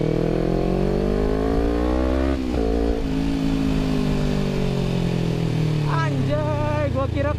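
A Kawasaki Ninja 250 FI fitted with a DX short racing exhaust revs hard above 5000 RPM, its loud, close engine note climbing and then falling away, with a voice breaking in briefly near the end.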